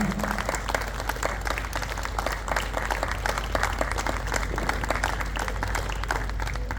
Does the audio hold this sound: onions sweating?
no